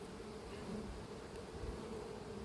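Honey bees swarm around an open hive during a colony split, giving a steady, dense buzzing drone that holds level and close throughout with no talk.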